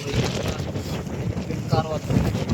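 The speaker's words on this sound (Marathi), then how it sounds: "तुम्ही पहा भरपूर हवा आहे" Strong wind roars and buffets the microphone continuously on a foggy Kalsubai mountain forest trail, loud and gusty, with a brief indistinct voice partly buried in the noise.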